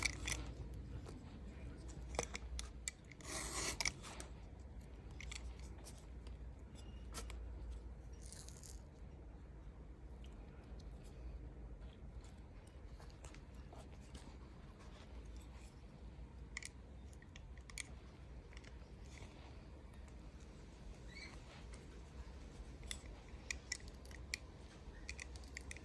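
Scissors or a blade trim excess cured Oomoo 25 silicone rubber from a mould, giving faint, quiet snips and crunchy cuts spread through a calm, near-silent stretch with no talking.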